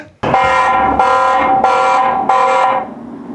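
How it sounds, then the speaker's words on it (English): A loud electronic alarm tone from a Tapo C200 security camera blares in four repeated pulses with short gaps, harsh and close, fading at the end. "I just put the alarm on."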